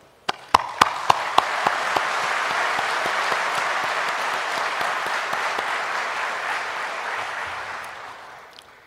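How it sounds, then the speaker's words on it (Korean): A hall audience bursts into applause at a formal Korean ceremony honoring social economy contributors, a few sharp claps first swelling into steady, sustained clapping that fades slightly near the end. "존경의 박수를 보냅니다."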